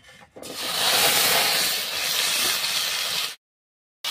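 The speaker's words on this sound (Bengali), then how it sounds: "তেলটা গরম হয়ে গেছে, ওর মধ্যে দিয়ে দিচ্ছি আলুগুলো।" Potatoes go into hot oil in a wok and set off a loud, broad sizzle that rises sharply after a brief quiet start, holds steady for about three seconds, then cuts off abruptly.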